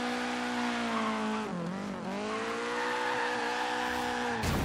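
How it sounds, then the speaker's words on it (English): A Nissan 240SX drifts around a roundabout in Forza Horizon 3, its engine droning at high revs while the tires squeal continuously, pitch dipping briefly midway before a sharp burst at the end. "Let's see if we can drift around this little roundabout here."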